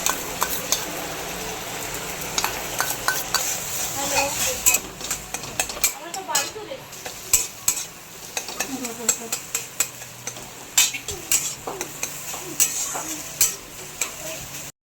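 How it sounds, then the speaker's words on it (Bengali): An egg fries in hot oil in a karahi, a continuous sizzle broken by many sharp clicks and scrapes of a utensil against the pan, with someone speaking intermittently over it. "ডিম ভাজাটা হয়ে গেছে"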